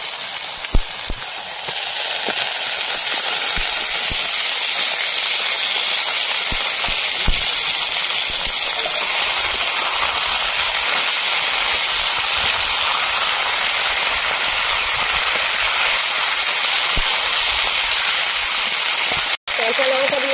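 Meat hitting hot fried spices in a pan for a village-style chicken spare parts kosha, a steady loud hiss and sizzle with a few soft clicks, a voice speaking over it.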